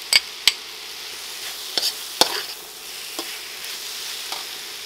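Green onions stirred into a hot, sizzling pan while making Thai spicy rice noodles with coconut flakes: a steady sizzle under a few sharp utensil clicks and scrapes against the pan, close by, no voices.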